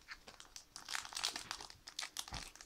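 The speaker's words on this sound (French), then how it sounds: "Bon, on va ouvrir juste les boosters alors." Trading card booster packs are torn open and crinkled close up, a quick series of sharp crinkling rips and crackles of foil wrapper.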